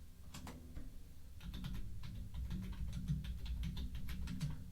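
Rapid keyboard typing on a computer during a podcast, a quick irregular patter of key clicks running steadily throughout at moderate level over a low background hum, with no talk.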